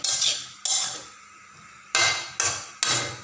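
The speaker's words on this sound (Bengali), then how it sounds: "নাড়াচাড়া করে নেব।" A utensil scrapes and clanks against a pan while stirring soybean mixed vegetables with ground coriander, with five or so sharp metallic strokes spaced unevenly, close and fairly loud, no talk.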